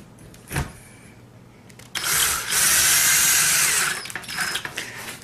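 A drill drives metal roofing screws into a TV antenna mount, a sharp tap followed by a loud, close whirring run of about two seconds, then a few short stuttering bursts as the screw seats.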